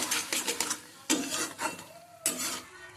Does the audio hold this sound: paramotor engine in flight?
no